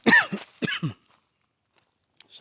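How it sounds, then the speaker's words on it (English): A man coughs hard several times in quick succession, close up, followed by near silence and faint movement noise. "Not sure why I'm coughing like that again"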